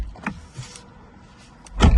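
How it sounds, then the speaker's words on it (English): Driver's door of a 2023 BMW 5 Series opening with the engine off, heard as a short mechanical click and thud at close range with a faint electric whirr, no talk. "When you open the driver's door"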